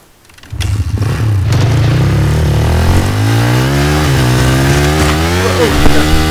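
A motorcycle engine in the video game Battlefield 3 revving up and holding a loud, steady, buzzing drone that rises and wavers in pitch, close and continuous, with faint voices in the background.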